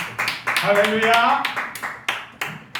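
A church congregation at a Sunday worship service claps in short bursts while a voice speaks over the applause.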